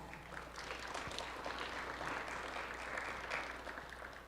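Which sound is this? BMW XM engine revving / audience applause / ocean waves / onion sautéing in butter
audience applause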